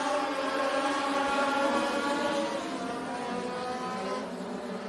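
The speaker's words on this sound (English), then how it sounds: "That allows the 7 of Jackson Lewis to shotgun to the lead on the end of lap 1" Race cars roar around the Benton County Speedway track during a heat race, a steady, distant, droning engine pack at moderate volume, easing slightly toward the end.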